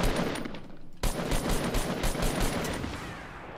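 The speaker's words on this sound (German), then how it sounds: "Ich schieße alle meine Waffen" Rapid bursts of automatic gunfire from weapons in the video game Fortnite, loud and close, with a short quiet gap before a dense string of shots.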